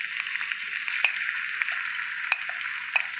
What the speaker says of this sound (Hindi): ये देखिए हमारा मसाला भून चुका है